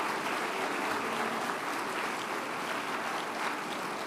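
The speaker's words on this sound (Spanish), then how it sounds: "hay un aplauso para los..." Applause from the audience at a presidential cabinet event in Argentina, a continuous wash of clapping heard faintly and evenly from a distance, with no voices over it.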